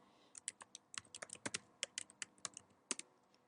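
A password is typed on a computer keyboard: a quick, uneven run of close key clicks, with bursts and short pauses, loud against a quiet room.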